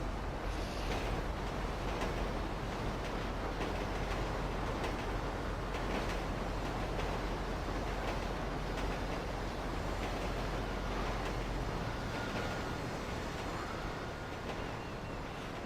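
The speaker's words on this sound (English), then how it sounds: "Oh, train coming." A train rumbles through a tunnel in the video game GTA 5, a long loud roaring wash of rolling noise with rhythmic clacks, sustained for the whole stretch with no speech.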